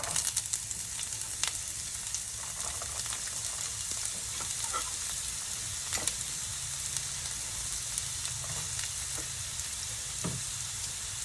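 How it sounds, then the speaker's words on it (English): Onions and garlic fry in hot coconut oil, a continuous close sizzle with crackling pops and occasional stirring scrapes, steady and even throughout without speech. "I'm going to add in the onions and the garlic."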